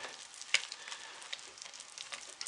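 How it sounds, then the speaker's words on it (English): Spoon stirring a hot process soap mixture in a crock pot, a soft wet scraping and bubbling texture with one sharp clink near the start, close and fairly quiet. "So we're just going to stir everything down."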